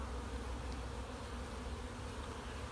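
Honeybees swarm and drone steadily at an open, boosted beehive, a dense continuous buzz sitting close and fairly quiet with no pause across the whole stretch.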